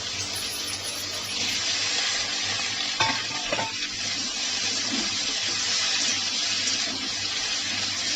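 Mixed vegetables with ridge gourd and marish stalks stirred in a frying pan, a steady sizzle with scraping spoon strokes around the middle, no voices.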